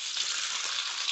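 Steady, fine sizzling of Orbeez hydrogel beads frying in hot oil, a dense, even crackle heard close up and alone, with no talk.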